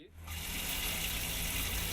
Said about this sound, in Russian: теперь она течет прямо из-под крана